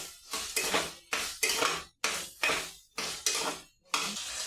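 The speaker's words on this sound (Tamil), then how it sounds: "நல்லா ஒரு 5 நிமிஷம் நல்லா எண்ணெயில் வதக்கிக்கலாம்." Vegetables sautéing in oil in a pan for a vegetable dal rice dish, with repeated loud scraping and clinking of a utensil against the pan in rhythmic strokes over a soft sizzle, no talking.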